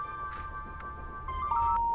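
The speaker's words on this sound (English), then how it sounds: "This is my old cell phone. The one I got rid of a few weeks ago. And it's ringing." An old cell phone rings in the horror adventure game The Charnel House Trilogy, giving a clear electronic ringtone of repeated tonal pulses. It sounds alone, with no talking.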